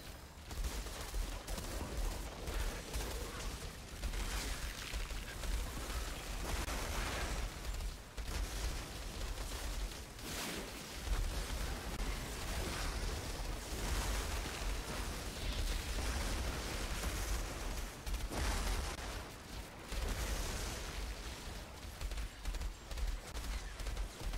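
Rapid SMG fire and explosions rattle continuously in the Outriders video game, a dense, loud barrage of shots and booms with brief dips, running for over twenty seconds with no talk.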